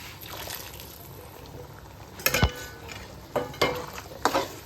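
Half-fried onions, capsicum and frozen green peas being stirred in a pan, soft scraping with a faint sizzle and a few sharper clinks of the spoon against the metal toward the end, close and fairly quiet.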